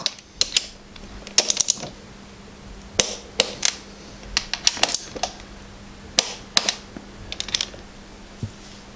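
Ratchet wrench tightening the cylinder head bolts on a Yamaha 250 YZ motorcycle engine to 28 Nm, heard as bursts of sharp, close metallic clicks in quick uneven runs with short pauses between.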